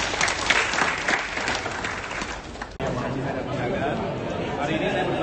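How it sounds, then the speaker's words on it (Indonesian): Dense, sustained applause from an audience at a book launch event, filling the whole stretch at a steady moderate level with crowd chatter and voices mixed in. "Tepuk tangan sekali lagi untuk kami."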